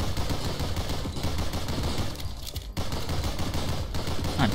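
Turrets in the game GunCraft Survivor fire nonstop in a dense, loud barrage of rapid gunshots, a continuous roar of overlapping bursts with no clear gaps between them and no talking.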